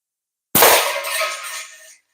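A slingshot fires once: a sharp snap followed by a ringing clang that fades over about a second and a half, close and loud with no talking.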